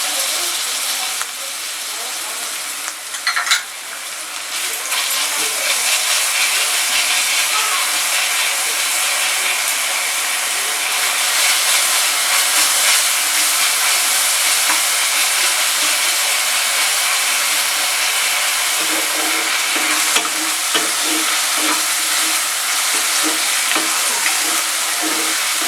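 Garlic paste sizzles loudly in a hot pan for white chicken, a steady bright hiss and crackle that swells slightly after being added and carries on continuously.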